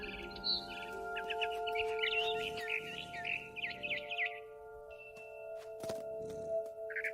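A barn swallow chirping in the game What Remains of Edith Finch, with rapid high twittering phrases repeating close by over a soft tonal hum, broken by a couple of dull knocks.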